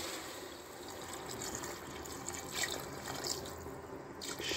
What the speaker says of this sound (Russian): заливаем все это вот так вот водой